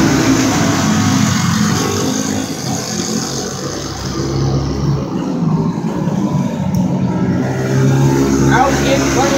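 Flathead-engined race cars taking the green flag at a feature race, a loud dense pack of engines roaring and rising together, with a public-address commentator talking over the noise.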